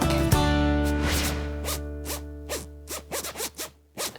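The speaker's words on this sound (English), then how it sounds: "I love the sound a zip makes when you open and close it" A zipper is pulled open and shut several times, each pass a quick scratchy rasp, close and clear, with short pauses between strokes and no voices.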